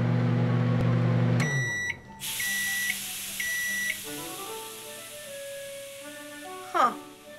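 A microwave oven in the video game Jazzpunk beeps a few times, then hums steadily as it runs, with short electronic tones and a brief clatter near the end.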